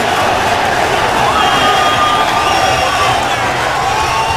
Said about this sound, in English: we are set in front of an enthusiastic crowd here at the Arco Arena